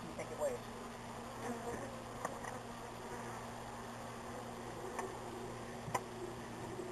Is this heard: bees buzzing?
yes